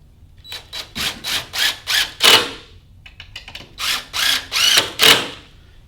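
A power drill drives two screws into a sewing table during assembly, with about ten short, loud mechanical bursts in two quick runs separated by a brief pause, with no talking.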